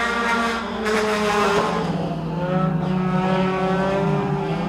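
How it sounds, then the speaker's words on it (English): A NARC 410 sprint car racing at Merced Speedway, engine roaring loud and close on throttle down the back straight, a sustained high-pitched harmonic wail that rises and shifts as the cars pass. "Gonzalez on the throttle, down the back straightaway."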